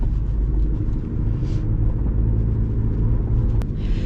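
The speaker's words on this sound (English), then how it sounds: "I'm gonna slow down. Because my car's about to take off." Audi A1 hatchback driving on a slippery road, its engine and road rumble forming a steady, loud low drone throughout with no talking.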